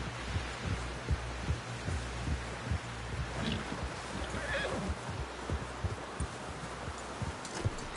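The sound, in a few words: horse neighing in video game Red Dead Redemption 2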